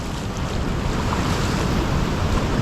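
Strong ocean waves at low tide wash continuously onto the shore, a dense, loud roar of surf mixed with wind buffeting the microphone, with no break in the rumble.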